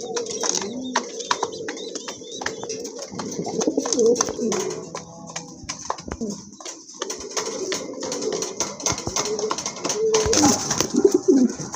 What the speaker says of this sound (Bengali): খুবই চমৎকার এক জোড়া কবুতর, অনেক বড় সাইজের এক জোড়া বড় পায়রা